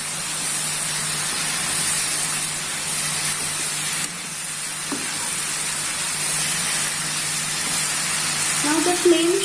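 Soya chunks sizzle as they are mixed with salt, chili powder and garam masala in a hot pan, a steady frying hiss with faint stirring scrapes and no speech.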